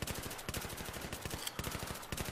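M249 light machine gun in Battlefield 3 fires rapid bursts of evenly spaced shots, loud and close, broken by short gaps between bursts.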